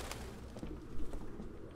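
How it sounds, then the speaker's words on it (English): A flock of birds, likely pigeons, cooing in the video game Detroit: Become Human, heard as a soft, low, continuous murmur with a few faint flutters and thumps, fairly quiet and with no voices over it. "Bunch of birds."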